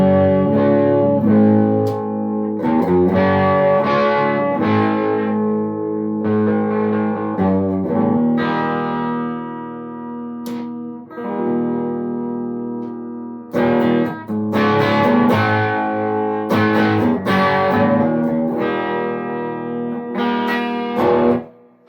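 Electric guitar played through a Bogner Helios 100W amp head on the hot input of channel 1 in 70s mode, with thick, saturated chords and sustained notes ringing out loudly, separated by brief pauses.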